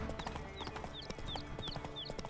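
Roach the horse's hooves clip-clopping steadily in The Witcher 3, a brisk repeating trot of hoofbeats over a busy game soundscape with faint high chirps.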